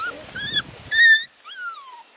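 Hound puppies whimper close by in a few short, high, rising-and-falling whines and yips, one after another, with no talk over them.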